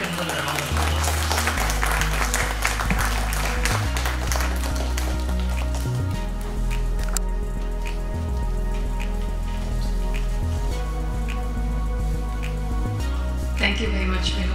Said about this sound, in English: Can we welcome her with a round of applause?